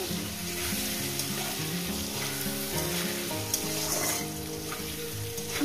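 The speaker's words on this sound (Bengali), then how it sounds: "আলুটাকে আমি 2 মিনিট ভেজে নেবো, 2-3 মিনিট ভেজে নেবো।" Potatoes with turmeric frying in oil in a pan: a steady, close sizzle with occasional stirring, running continuously under soft background music with no talking.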